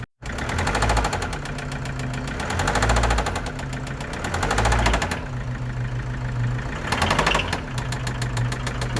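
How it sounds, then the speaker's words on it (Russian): An Opel Vivaro 2.0 diesel engine is revved, its loud, steady running carrying a rhythmic knocking, with the revs rising and falling several times, close up. "Такой, как вы слышали, звук в моторе."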